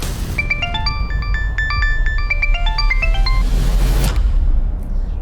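A bright electronic ringtone melody of quick repeated tones plays over a low background rumble, then stops abruptly near the end.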